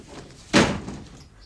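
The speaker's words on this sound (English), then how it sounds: "And don't slam doors." A single door slams shut with a sharp, heavy bang in the middle of an otherwise quiet room, the impact followed by a short fading rumble.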